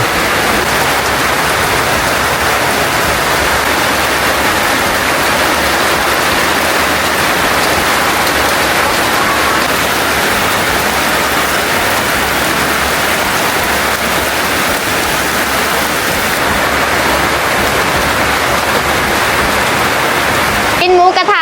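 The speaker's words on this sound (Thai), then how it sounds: "ฝนตกตั้งแต่เมื่อคืนนะ ะ ไม่หยุดเลย" Steady rain that has fallen since the night before patters without pause on surfaces around a rural Thai home, a constant even hiss that fills the whole stretch.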